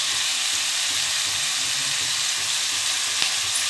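Curry leaves crackle and sizzle in hot oil, a steady bright hiss with small pops, close up and uninterrupted.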